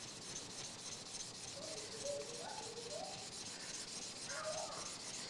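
A steel scraper is rubbed back and forth on a moistened sharpening stone, giving a continuous, quiet abrasive scraping with faint squeaky tones over steady background hiss.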